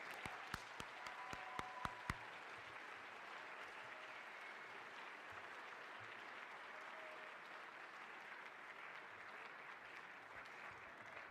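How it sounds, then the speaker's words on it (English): A school crowd at a Veterans Day assembly applauds Ms. Sassman, opening with a few distinct near claps before settling into sustained, fairly quiet, even applause that carries on to the end. "Please give a round of applause for Ms."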